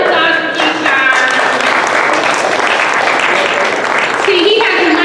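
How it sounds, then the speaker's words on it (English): Sustained applause from an open mic crowd, loud and dense, with some voices and cheers mixed in throughout. "Another round of applause for Keyshawn."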